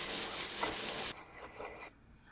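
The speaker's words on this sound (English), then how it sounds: "we're just going to saute all those items together so they start to marry" Celery, red bell pepper and garlic sauté in a hot pan, with a loud, close, steady sizzle that suddenly drops to a softer crackle and then fades quiet, with no talking.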